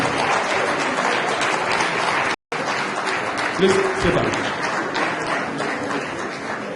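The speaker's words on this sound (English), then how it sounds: "Applaud these women." A conference crowd at the 4th Nigeria Family Planning Conference gives steady, full-room applause to standing midwives, continuing throughout while a speaker talks over it.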